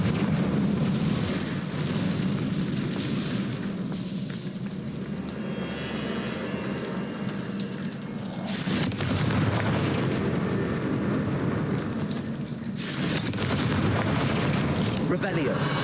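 Explosive blasting-spell bursts in the video game Hogwarts Legacy, heavy booming blasts with rumbling decay, recurring at intervals over a continuous low game rumble and music.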